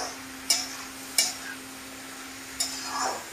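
Beans and carrots for egg fried rice fry in a pan, a quiet sizzle under three sharp spatula scrapes and clinks, with a faint steady hum running beneath.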